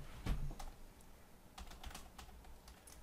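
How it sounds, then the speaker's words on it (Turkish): Rapid clicking of a computer keyboard during a Minecraft SkyWars match, with a burst of keystrokes early and scattered taps after, fairly close but quiet, no talking. "Klavyede bir şeyler sallıyorum."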